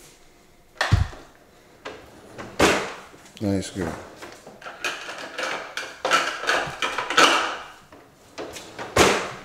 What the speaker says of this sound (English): close the drawer. Can you open it?